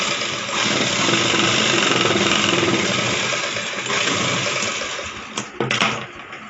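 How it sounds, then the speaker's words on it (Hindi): An electric sewing machine runs steadily, stitching through folded blouse fabric with a continuous close motor whir, then slows and stops with a few uneven bursts at the end. "अब एक छोटी सी ऐसे कपड़े को फोल्ड करके हम निशान सिलाई लगा लेंगे।"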